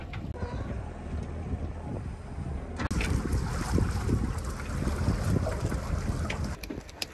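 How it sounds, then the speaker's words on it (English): Sailboat under sail in decent wind with its motor off, heard as steady broadband wind and water rush against the hull, with buffeting microphone wind noise that grows louder partway through. "We have some decent wind, and we just turned off our motor, and we are sailing."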